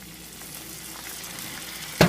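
Onions turning light golden brown in a pan with a little sugar and balsamic vinegar, caramelizing for a galette; a steady, soft sizzle, then a sudden louder knock right at the end.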